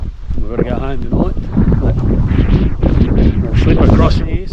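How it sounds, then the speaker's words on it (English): Gusts of wind buffet the microphone outdoors in the Australian bush during a winter boar hunt, a loud, rumbling roar that swells and dips without pause over the whole stretch. "sorry about the wind"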